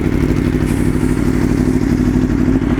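A used Aprilia Tuono motorcycle engine runs loud and close, a deep throbbing exhaust note with a steady pulsing rhythm throughout, without clear distinct pops.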